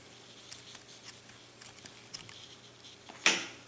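Crochet yarn being snipped with scissors after a leaf is finished, with light handling clicks and rustles leading up to one sharp, close cut near the end, no talk.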